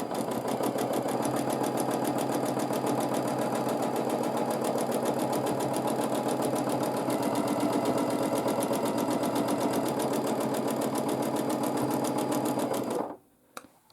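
A sewing machine runs continuously during free motion quilting on a quilt sandwich, a fast, steady mechanical whir and needle rattle that holds for about thirteen seconds before stopping abruptly.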